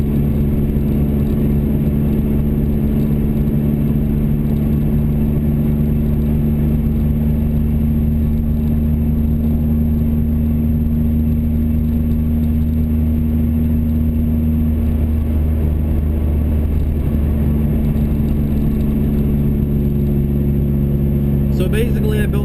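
A Nissan Silvia engine holds a loud, steady drone during a tuning pull, its tone staying nearly constant throughout.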